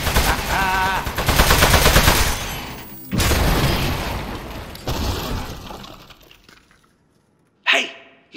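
Rapid gunfire from a player's weapon in the video game Aperture Desk Job, loud bursts running for several seconds with sharp breaks, fading out, then one short burst near the end.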